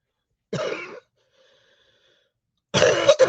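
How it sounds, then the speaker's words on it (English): Two bursts of coughing from one person, close and fairly loud, separated by about two seconds of near silence. "I think this powder is kind of making me cough."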